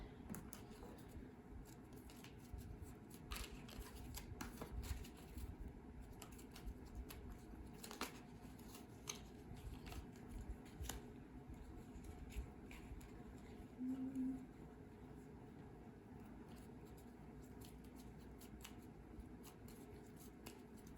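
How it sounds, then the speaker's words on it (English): Tarot cards being shuffled, a soft steady riffle and patter of card stock running low and quiet under a faint room hum, with brief crisp snaps and a slightly louder flurry near the end. "We shuffle out Sailor Jerry card for each of these."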